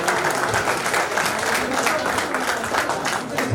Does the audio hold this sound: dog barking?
no